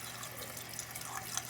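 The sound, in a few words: toilet tank water running, float won't shut off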